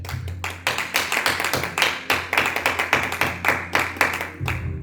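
A church congregation claps in rhythm, steady repeated hand claps filling the room loudly and continuously, with no talking over them.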